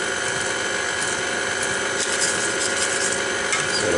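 An electric mixer beating red velvet cake batter with buttermilk, a steady close whirring, grinding drone throughout.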